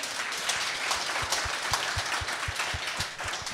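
Audience at a live French-language podcast taping applauds, a fairly faint wash of clapping with a steady rhythmic thumping pulse running through it and no voices.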